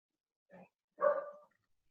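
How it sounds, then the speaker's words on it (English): A dog gives two short barks, a small soft yip followed by a louder, fuller bark, close by against silence. "Hey, someone has let his dogs out."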